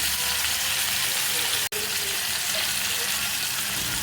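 Stuffed bitter gourd fries in a pan, giving a loud, dense, unbroken sizzle with one brief dropout partway through.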